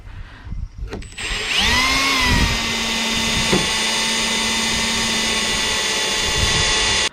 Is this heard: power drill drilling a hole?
yes